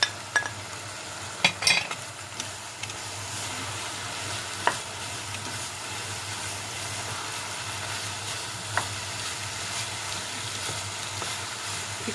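Frozen peas and coriander sizzle steadily in a keema matar curry, with a continuous frying hiss, a few sharp clinks from a spoon near the start and occasional light taps, no voices.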